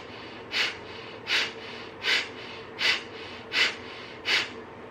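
Pranayama breath work: six steady, rhythmic breaths, each a soft, airy exhale rising and fading about every three-quarters of a second, close to the microphone over a faint background hiss, with no talking.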